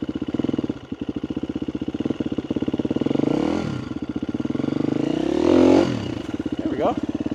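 Motocross bike engine worked with throttle and clutch while riding a loop through an urban site, a close, loud rapid pulsing idle that rises into revving swells and drops back, with some clatter.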